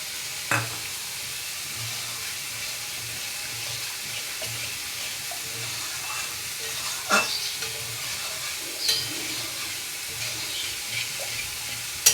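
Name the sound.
raw banana kofta masala being sautéed in a pan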